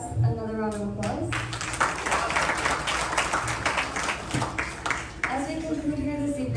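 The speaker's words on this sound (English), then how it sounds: "Let's all give our Vyaas another round of applause." Audience applause rings out at an evening temple gathering, a dense, steady wash of clapping lasting several seconds, with a voice speaking over the hall before and after.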